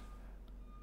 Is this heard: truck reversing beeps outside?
yes